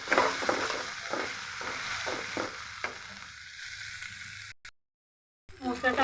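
Spices and onion frying in a pan for a hilsa fish and pointed gourd curry, a steady sizzle with rhythmic stirring scrapes, then a brief silence before the frying resumes.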